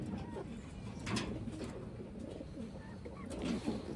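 A newly arrived Taiwan pigeon coos softly in a few low, rolling calls, faint against a quiet room background.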